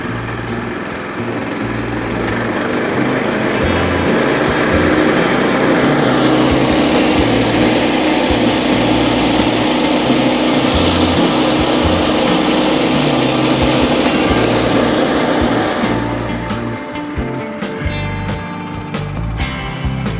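The gas engine of a sawmill idles steadily while warming up just after starting, a loud, continuous close-up drone that changes character briefly near the end.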